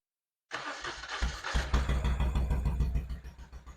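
A restored 1971 Moto Guzzi Ambassador police motorcycle with new spark plugs and no mufflers attached fires up after silence: a brief crank, then it catches into a loud, rough, throbbing idle close by.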